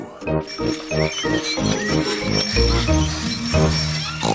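A bicycle bell rings rapidly and repeatedly, bright metallic dings in quick succession, loud and close.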